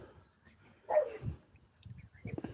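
A pet dog named Angel lets out a single gruff bark followed by low grumbling growls and snuffles, close by and moderately loud on a quiet front porch.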